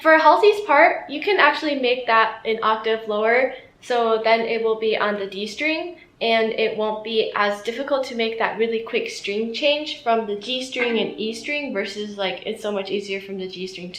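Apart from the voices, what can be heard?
No everyday noise stands out behind the speech.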